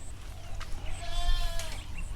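Goats at a farm in Sing Buri province, Thailand, give one clear, wavering bleat in the middle, close and fairly loud over low background rumble.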